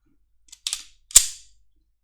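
Sharp metallic clicks from an unloaded HS Produkt SF19 pistol as its safeties and mechanism are worked: a quick soft pair of clicks, then one louder, crisp snap, close up with no talking.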